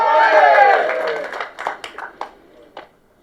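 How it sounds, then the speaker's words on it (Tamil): Scattered hand claps from an audience at a film audio launch event trail off into a few isolated claps, following a loud burst of voices and cheering. "நீங்களே ஒரு தடவை கைத்தட்டிருங்க"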